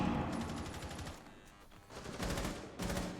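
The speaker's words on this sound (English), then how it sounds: "Shots fired once again from JMB's side of things." Gunfire in a Rainbow Six Siege collegiate match, with rapid automatic bursts that come and go in loud clusters and short lulls between them, steady and fairly close, with no voices.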